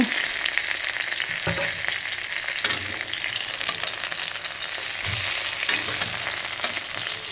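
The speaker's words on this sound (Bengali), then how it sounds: "মাছ ভাজা হয়ে গেছে, মাছ ভাজা তুলে নিচ্ছে।" Tilapia fish sizzling steadily in hot oil in a pan, a continuous close frying hiss with occasional soft stirring or lifting knocks, no talking.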